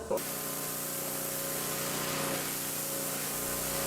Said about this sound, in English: I've got a pressure washer with this turbo nozzle on it.